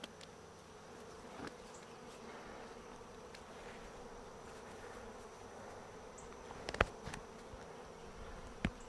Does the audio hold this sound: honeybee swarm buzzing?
yes